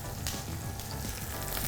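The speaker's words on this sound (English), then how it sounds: "we will mark the skin side first" Chicken skin searing skin-side down in a hot pan, a steady dense sizzle with crackling spits throughout, close and loud with no talking.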